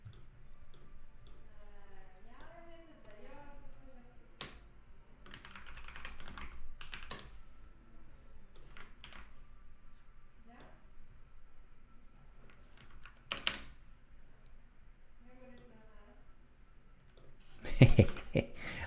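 Rapid clicking keystrokes from a computer keyboard being typed on, coming in irregular bursts at close range with a person talking over much of it.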